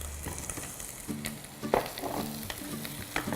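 Onions drop into hot oil already sizzling with ginger and garlic, a crackling fry with scraping stirs and small bursts as the pieces are tossed; no voices.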